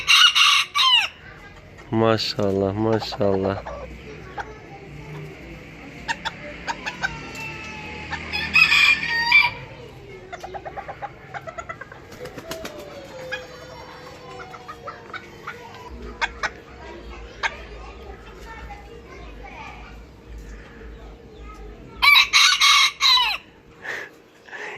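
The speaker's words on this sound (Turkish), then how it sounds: "Olağanüstü bir horozsun sen." A rooster of a new breed crows loudly and close in a chicken coop, several long crows with clucking between them, while a person talks and praises the bird.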